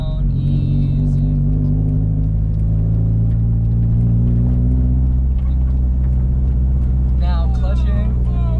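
Manual transmission car engine running steadily with a low, loud rumble inside the cabin during a gear change into second, with a voice briefly heard over it.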